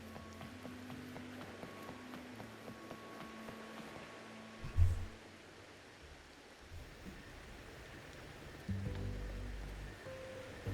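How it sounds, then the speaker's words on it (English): Steady rain in the video game Wuthering Waves hisses in a soft continuous wash, with a few low thumps and a hum-like drone underneath; no one speaks. "Bruh, it's raining."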